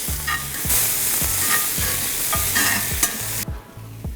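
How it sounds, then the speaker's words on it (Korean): Button mushrooms stir-frying in oil in a hot pan: a steady loud sizzle with repeated rhythmic scraping strokes of a utensil, close and alone, the sizzle easing near the end. "양송이 넣고 볶아요"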